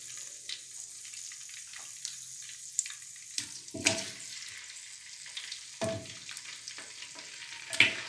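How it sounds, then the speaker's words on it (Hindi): Mutton frying in cooking oil gives a faint, low sizzle punctuated by occasional louder scrapes and clatters of stirring, fairly quiet and intermittent throughout. "अब इसमें गोश्त ऐड करेंगे और गोश्त को फ्राई कर लेंगे"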